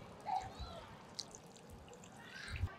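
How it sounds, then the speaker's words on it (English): Water is poured onto newly planted garden plants, giving a faint, soft splashing and trickling with a few small drips against quiet outdoor background. "But I'll just give it some water."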